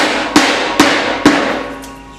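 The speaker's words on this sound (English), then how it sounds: "Now we're going to use a rubber mallet to hit the grooves into place on the stringers." Three close, solid knocks ring out about half a second apart as a rubber mallet drives metal stair treads into the grooves of a waterslide staircase's stringers, each strike followed by a lingering metallic resonance.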